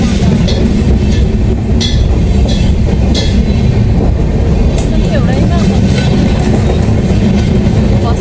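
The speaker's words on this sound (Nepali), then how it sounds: "यो अलिक लामै ट्रेन हो" A long train rolls past close by, loud and steady, with rhythmic clatter of wheels on rail joints and occasional metallic squeals.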